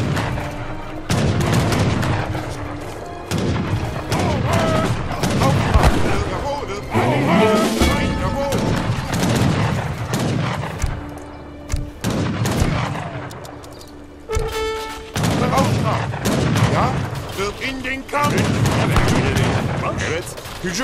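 Dutch Fusiliers firing muskets in Age of Empires 3, dense repeated volleys and booming battle noise filling the whole stretch, with someone talking over the fighting.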